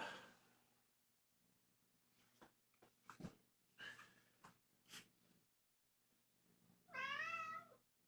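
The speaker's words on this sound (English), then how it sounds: "Oh man, some serious purrs." Kittens purr in a soft, steady low rumble that runs faintly under scattered rustles and snuffles, then a loud, clear meow breaks in near the end.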